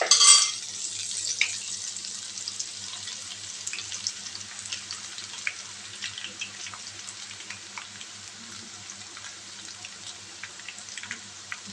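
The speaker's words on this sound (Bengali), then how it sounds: "এবার তেলটার মধ্যে এই যে এরকম সে ফুটো ফুটো করা যে পাত্রটা নিয়েছিলাম, তার মধ্যে এক হাতা ব্যাটার দেবো" Batter for motichur laddu drips through a perforated ladle into hot oil, a dense crackling sizzle that bursts loudly at first then settles into a steady, fine bubbling patter, close and without voices.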